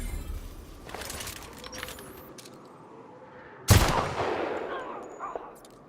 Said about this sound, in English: Sniper rifle, that actually works.